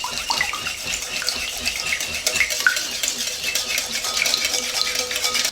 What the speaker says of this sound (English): you want to give it a good whisk